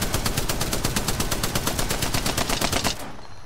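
Rapid automatic gunfire from Apex Legends rattles off as warning shots in one loud, close burst of evenly spaced shots for about three seconds, then cuts off abruptly.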